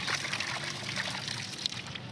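Water splashing and trickling as cut snakehead fish pieces are washed with salt in a home kitchen, a steady close-up pour with light sloshing throughout.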